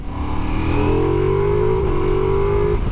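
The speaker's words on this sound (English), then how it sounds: "Oh, I love the sound of that motor" A 2022 Ducati Multistrada V4S V4 motorcycle engine revs up and holds a high, steady drone, its pitch climbing then settling, loud and close throughout.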